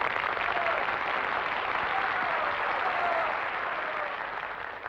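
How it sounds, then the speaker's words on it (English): A theatre audience applauds a performer on stage, a broad wash of clapping that holds steady and fairly distant, then tapers slightly at the end. "I experienced more of a thrill than tonight, hearing your applause for the fine talents of Linda Marsh."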